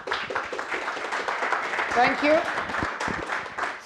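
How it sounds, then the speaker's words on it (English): Conference audience applause for a speaker at PyCon Italia 2023, steady clapping running throughout while a voice speaks briefly over it. "Let's give him a round of applause."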